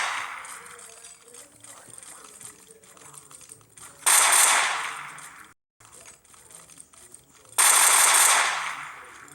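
Automatic gunfire from a zombie apocalypse video game, in two loud, sustained bursts that rattle for over a second each, separated by quieter stretches of game noise.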